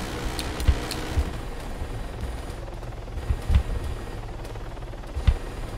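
A military helicopter in the video game Arma 3 gives a steady low rotor drone throughout. Sharp thuds and bursts from guided missiles and machine guns punch through at intervals.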